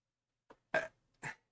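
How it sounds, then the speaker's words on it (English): A human burp, a short faint lead-in sound followed by two distinct belching bursts about half a second apart, close and isolated against silence. "Sorry, I burped."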